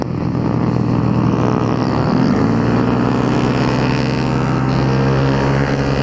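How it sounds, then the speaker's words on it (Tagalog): A loud motorcycle engine runs steadily during a Motul trackday at Clark Speedway, with a sustained roar and a slight pitch change partway through, close and continuous with no talk. "Malakas ang motor!"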